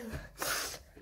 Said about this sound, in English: the reason why I keep sniffing is I have a cold.